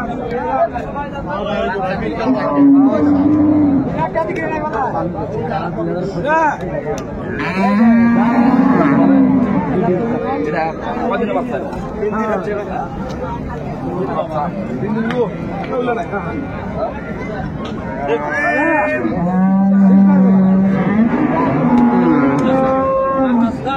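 Dairy cows and calves at a rural cattle market in Raniganj, Dinajpur, let out several loud, drawn-out moos at intervals, mixed with constant chatter and talk from the crowd nearby.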